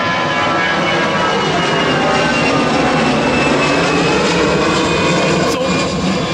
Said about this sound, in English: Here's a plane.